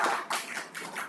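A small group applauding together, a brief burst of quick, fairly close clapping that fades out after about a second.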